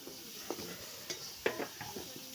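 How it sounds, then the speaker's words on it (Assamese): Tomatoes frying in a pan give a soft, steady sizzle close by, with a few light clinks and scrapes of stirring scattered throughout, with no talking. "মই এতিয়া বিলাহীখিনি ভাজি"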